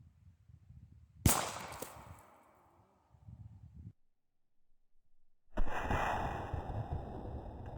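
A Harrington & Richardson .44 Magnum Handi-Rifle fires one loud, sharp shot at an outdoor range. A decaying tail follows, then quieter rustling and a later burst of broadband outdoor noise.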